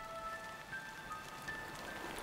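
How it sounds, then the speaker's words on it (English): Monsoon rain falls on island forest as a steady, even hiss of drops, close and unbroken, with faint bird calls and no voices. "That call comes with the first of the monsoon rains."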